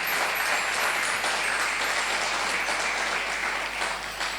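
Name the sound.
congregation applauding in church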